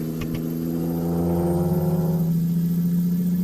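A Peterbilt 378 truck with a Cat engine in American Truck Simulator growls steadily with a deep, even rumble that rises slightly in pitch and loudness as it revs, heard alone and close.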